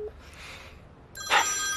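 A telephone rings once, a bright electronic ring that starts abruptly near the end after a quiet, faintly hissing stretch.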